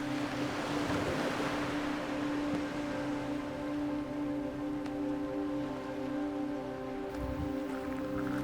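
Ocean surf rolls against sheer cliffs on a narrow strip of Tenerife coast near a lighthouse, a continuous wash of waves and wind with a steady low droning hum, no voices.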